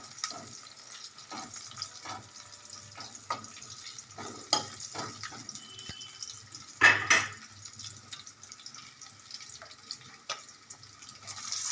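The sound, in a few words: pouring water into pan while making rava upma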